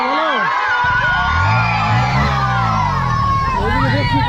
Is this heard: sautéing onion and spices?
no